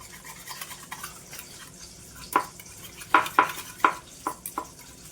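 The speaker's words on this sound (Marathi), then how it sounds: "आता हे सगळं व्यवस्थित आपण मिक्स करून घेऊया" A spoon stirs fried eggplant into yogurt in a bowl, making soft wet mixing sounds. Several sharp clicks and scrapes of the spoon against the dish stand out in the second half.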